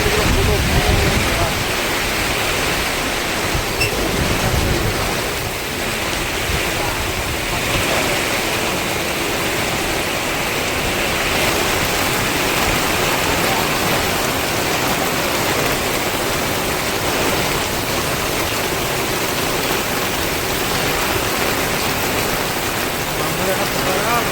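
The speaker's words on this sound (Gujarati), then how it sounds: "ફૂલનું ફૂલ વરસાદ પડી રહ્યો છે" Heavy rain pours down on a highway near Shihori in a steady, dense roar that fills the whole stretch without letup.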